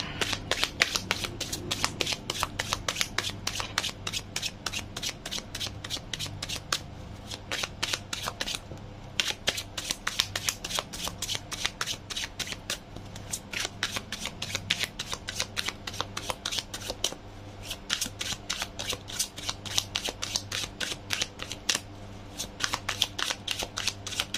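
Tarot cards being shuffled by hand, a long run of rapid crisp riffling flutters repeated steadily with brief pauses between bursts, close and clear with no talking.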